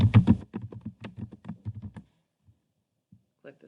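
Typing on a computer keyboard, a quick run of close, soft key taps for about two seconds, then a few sparse clicks in near silence.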